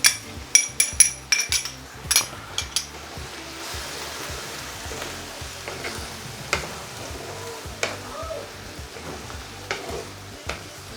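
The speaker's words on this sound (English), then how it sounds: "As we bring this to the boil, it's deglazing the pan" Sugar and ketchup sauce sizzles in a hot pan while deglazing it, with scraping stirs and metallic clinks of the utensil against the pan, loud at first then settling into a steady bubbling hiss.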